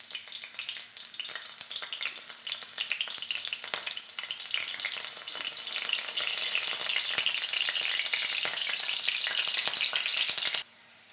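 Green chillies fry in hot oil in a wok, giving a steady, close crackling sizzle that builds slightly louder before cutting off abruptly near the end, with no voices.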